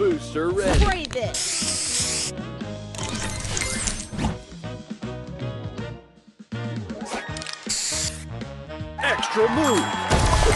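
Spray booster effect from a mobile match puzzle game, a loud hissing spray burst that repeats in several bright surges over busy game music and chimes, with a brief quiet dip in the middle.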